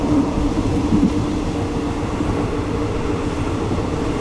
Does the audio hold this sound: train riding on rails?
yes